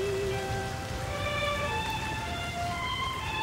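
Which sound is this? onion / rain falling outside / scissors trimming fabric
rain falling outside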